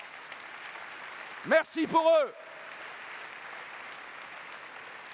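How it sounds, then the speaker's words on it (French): A conference audience at the Salesforce World Tour Paris opening applauds the pre-sales teams, a soft, distant wash of clapping that continues under someone speaking briefly into the microphone. "Je vous demande de les féliciter et de les applaudir à mes côtés"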